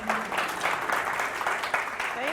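Applause from an audience at a college student event, a brief burst of clapping with brief voices and cheers mixed in underneath.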